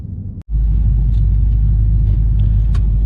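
An off-road race truck engine idles and runs with a loud, deep, steady rumble close by, cutting out for a brief moment before settling into a continuous drone.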